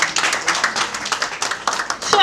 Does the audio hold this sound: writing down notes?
no